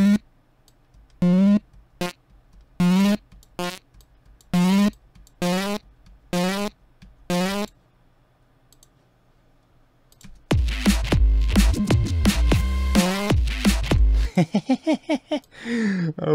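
Aggressive distorted synthesizer lead for a neurofunk track, high-passed toward a lead-step tone, first playing a stuttering run of short separate stabs, then after a quiet gap bursting into a loud, dense, continuous gritty sustained phrase that breaks into choppy bursts at the end.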